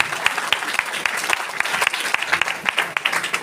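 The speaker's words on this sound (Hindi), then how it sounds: "इसके लिए एक और जोरदार ताली।" Audience at a 26 January Republic Day event breaks into loud, steady clapping, a dense patter of many hands with sharper individual claps standing out throughout.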